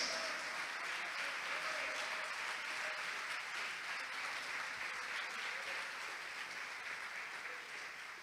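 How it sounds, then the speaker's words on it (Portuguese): Church congregation applauding in worship, a steady dense wash of clapping that holds loud and even throughout, with no voices standing out above it. "vamos aplaudir mais forte ao Senhor Jesus"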